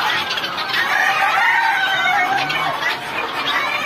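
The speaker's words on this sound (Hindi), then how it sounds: "और देखो दोस्तों टर्की है" Turkeys on a poultry farm make a dense, continuous chorus of gobbling and clucking calls, fairly loud and close, with no talking over them.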